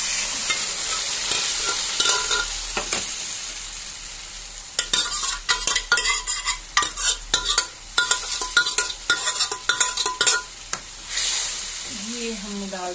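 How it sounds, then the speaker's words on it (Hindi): Stinging nettle paste is added to garlic frying in a pan. A steady sizzle gives way to bursts of scraping stirring strokes, close and fairly loud, before the pan settles back into sizzling. "तो उसके बाद जो हमें ये बिच्छू बूटी घोल के रखी हुई थी वो हम इसमें डाल देंगे।"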